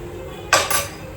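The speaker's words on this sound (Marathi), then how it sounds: "आपण कुकरचं ढाकण लावून बघून द्या व्यवस्थित" A lid is set onto a pressure cooker, giving two quick metallic clatters close by, the first sharper than the second, with quiet room stillness on either side.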